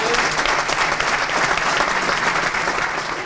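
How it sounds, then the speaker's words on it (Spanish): A large audience at a Navarra political rural-affairs event claps loudly, a dense, sustained burst of applause filling the whole stretch with no talk over it. "un aplauso grande para los..."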